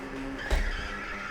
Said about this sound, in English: The car is sliding around on the pavement like ice